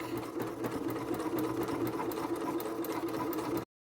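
Sewing machine stitching steadily around an appliqued tree trunk on background fabric, a close, continuous whirring hum with fine rapid needle ticks throughout, ending abruptly.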